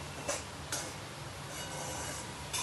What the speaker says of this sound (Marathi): एक 7 मिनिटं आपल्याला भाजून घ्यायचंय, सतत हलवत राहायचं